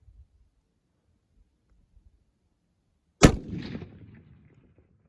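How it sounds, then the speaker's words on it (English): A single loud rifle shot from a 6.5-284 fired toward a 500-yard target cracks sharply out of near silence, followed by a rolling echo that fades over about a second and a half. "we just made our first shot, and turns out we were actually dead on"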